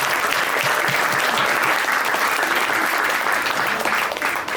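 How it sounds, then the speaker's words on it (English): An audience gives a warm round of applause at a community mental health event, a full, continuous burst of clapping that holds steady before tapering slightly at the end, with faint crowd murmur underneath. "a big round of applause for Samir"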